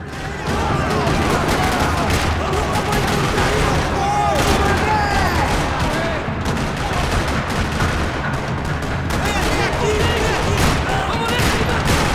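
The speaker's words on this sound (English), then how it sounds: "Another parking lot rattling with gunfire." Dense, continuous bursts of gunfire and explosions in a parking lot in the video game Max Payne 3 crackle throughout, with a driving music bed underneath and no clear pauses.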